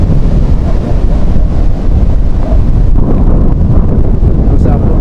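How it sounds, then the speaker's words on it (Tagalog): Strong wind buffets the microphone as heavy surf pounds the shore during Typhoon Betty in Baler, Aurora, a loud, dense, continuous roar with crashing waves underneath and no clear talk. "So grabe ang alon, no?"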